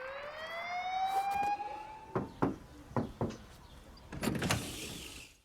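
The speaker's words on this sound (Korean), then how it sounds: "그리고 날아오는 총알과 사이렌 소리." A siren wails with a rising tone in a film scene at a border wall, followed by several sharp bangs like gunfire and a burst of noise, with no voices.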